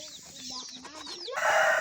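Young chicks clucking and pecking at scattered feed pellets, a close cluster of soft chirps and clucks over a low continuous background, ending in a louder noisy burst.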